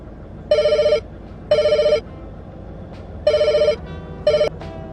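A telephone bell rings in four loud electronic bursts, each about half a second long, with short gaps between them and no one talking, set in a game-play episode.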